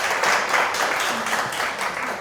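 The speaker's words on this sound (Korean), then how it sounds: "박수 한번 할 수 있을까요?" An audience applauds in rhythmic, dense clapping, fairly loud and close, with little talk over it.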